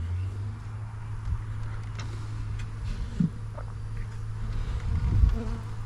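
A swarm of honeybees drones steadily around a swarm trap, a continuous close buzz with a few individual bees flaring louder as they pass near the microphone, over a low background hum.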